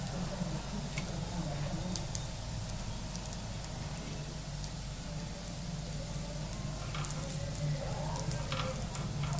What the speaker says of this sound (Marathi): आता आपण खोबरं टाकून घेऊ भाजायला